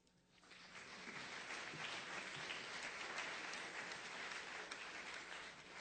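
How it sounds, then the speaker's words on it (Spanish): A crowd applauds steadily for a contestant at a 2015 competition, the clapping swelling quickly and holding at an even level to the end. "vamos a recibir con un fuerte aplauso a Diego Rentería Hernández de Durango."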